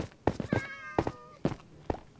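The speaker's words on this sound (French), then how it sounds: "si vous entendez des miaulements de chats, c'est qu'il y en a dans la villa." Several short Minecraft cat meows in quick succession, fairly close, with soft thumping steps between them.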